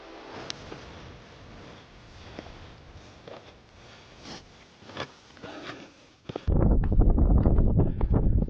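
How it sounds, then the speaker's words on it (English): Wind on a high ridge hilltop: a soft steady hiss with occasional gusts, then a sudden loud, low roaring buffet of wind hitting the microphone for the last couple of seconds. "It's a bit windy."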